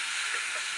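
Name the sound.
mustard, chili and cumin paste sizzling in hot oil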